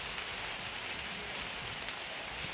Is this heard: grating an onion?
no